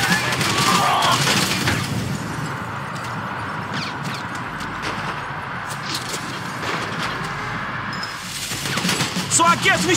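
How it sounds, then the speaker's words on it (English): Gunfire during a bank robbery police shootout in the video game GTA V, bursts of shots and booms at the start and end with scattered pops between, mixed with game voices. "So I guess we're shooting our way out of here."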